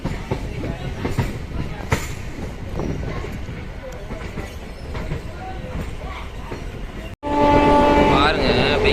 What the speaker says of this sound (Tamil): Finally விழுப்புரத்துலேருந்து train கிளம்பிடுச்சு.